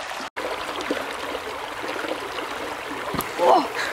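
A river flows and trickles during a bush walk crossing, a soft steady rush of water with a small splash near the end.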